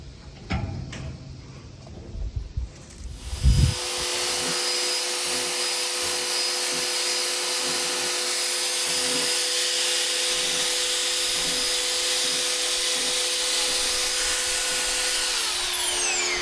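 Power floor sander fitted with 40-grit paper runs a steady, loud drone across a floor after some handling noise, close and without talking.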